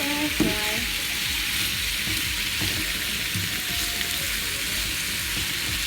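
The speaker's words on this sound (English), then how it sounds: "So once they're frying, then eventually I'll place them inside of the pan" Steady, dense sizzling of pork ribs frying in hot olive oil, continuous and close, with occasional faint clinks.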